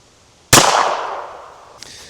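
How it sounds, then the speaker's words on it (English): A Smith & Wesson .22 revolver fires a single sharp shot into an armor plate. The crack is followed by a ringing, echoing decay, and a faint second tap sounds about a second later. "First up, we got the 22 and this old ass revolver. Yep, Smith & Wesson 22 revolver."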